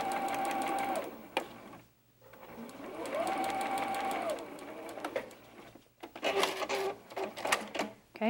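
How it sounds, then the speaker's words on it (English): Sewing machine stitching a quilt block seam, a fast mechanical whirr with rhythmic needle clatter in several bursts, starting and stopping with short pauses between runs, close and clear. "I'm having my block lay nice and flat so that I can sew down about 3/4 of the way"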